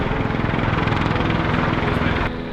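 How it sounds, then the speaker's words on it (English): Rescue helicopter flying over the 2022 Lismore floods, a steady loud rotor and engine drone holding throughout, then dropping slightly near the end. "There's the helicopter."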